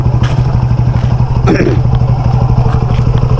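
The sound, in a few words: motorcycle engine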